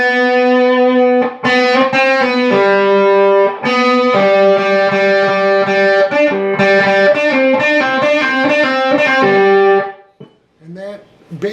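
Distorted electric guitar with effects plays the closing of a solo, a fast, loud run of sustained and rapid notes, then a sudden drop to a few quieter plucks; a voice may be faintly present at the end.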